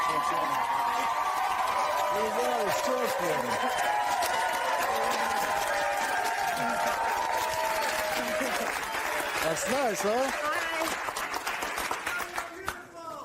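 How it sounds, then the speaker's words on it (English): Studio audience at a daytime talk show cheering and applauding loudly, a dense, sustained roar of clapping that tapers near the end, with a host speaking over it. "Not very often a whole room of people cheer for you"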